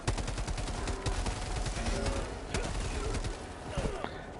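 Rapid assault rifle bursts in the game Helldivers 2, dense fast cracks firing almost continuously at close range, with a few brief pauses between volleys.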